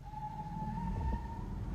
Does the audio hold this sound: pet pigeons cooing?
no